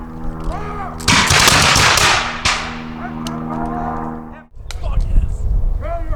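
A militia drill demonstration fires a musket volley, a loud close blast of overlapping shots that rumbles and fades over several seconds, with people talking and shouting around it before and after.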